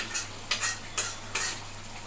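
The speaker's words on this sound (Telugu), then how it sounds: "సార్ వండుతున్న చికెన్ కూర" Chicken curry cooks in a pot while being stirred, four rhythmic scraping strokes of a spoon over a low simmering hiss, fairly quiet.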